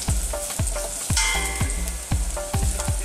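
Garlic fries in a pan for a crab-in-coconut-milk dish, a steady loud sizzle broken by regular scraping stir strokes roughly every half second, close up and with no voices.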